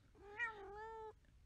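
A domestic cat gives a single meow indoors, about a second long with a brief sharper peak near the start, fairly faint against a quiet room hum.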